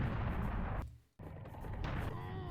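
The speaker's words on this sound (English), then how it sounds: "Now we want to charge the cannon for longer than usual to get more height." Cannon fire in the Serious Sam: The First Encounter video game, a loud sustained booming blast that cuts out briefly, then resumes as a second roaring burst with a trailing whine.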